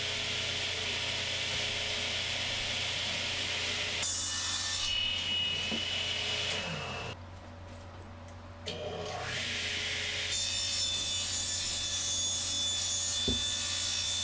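Hand sawing through wood panel stock while building an indoor plant cabinet, a steady close rasping rub that pauses briefly midway as the board is turned, then resumes with continued sawing strokes.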